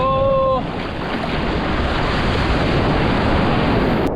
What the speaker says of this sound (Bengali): ঢেউগুলো দেখো যেমন ঢেউ দিচ্ছে না আমার মাজার হাইটে ঢেউ